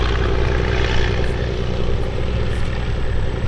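Antique propeller airplane flying low over trees and lining up on the runway at a vintage aerodrome, its piston engine a loud, steady droning roar with no voices.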